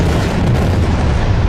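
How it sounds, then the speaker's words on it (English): A controlled detonation of an unexploded bomb in a Vietnamese province gives a dull, rumbling boom, a broad low-heavy blast that swells and rolls for over a second without talk. "I think I expected an explosion."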